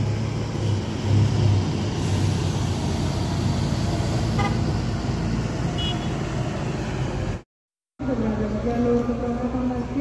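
Scania K410IB Tronton bus of PO Sinar Mudah, bound for Malili, pulls out of a busy bus terminal with a steady engine drone among traffic, a brief horn toot and a background voice, then a short gap.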